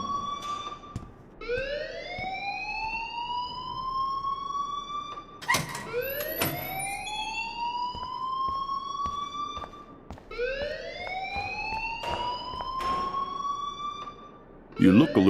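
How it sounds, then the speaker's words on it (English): An alarm sounds in the video game Life Is Strange: a loud, siren-like wail that rises repeatedly in long sweeps, about four cycles, over a busy background with a sharp burst near the end. "please turn off that alarm since that's your job"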